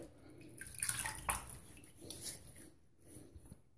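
Water splashing and dripping as a vintage straight razor is rinsed, faint and close, in a few irregular bursts of trickling and splashing.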